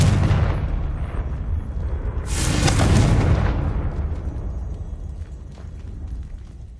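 A Confringo spell bursts into an explosion in Hogwarts Legacy, a loud blast swelling after about two seconds and then rumbling away into a fading tail.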